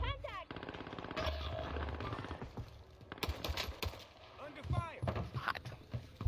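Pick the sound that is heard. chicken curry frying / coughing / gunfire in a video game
gunfire in a video game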